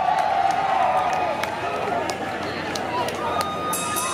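A rock concert crowd at an outdoor pavilion in Camden, NJ, cheers and whoops loudly at first, then settles into a softer roar with scattered shouts and whistles. A voice is heard over it.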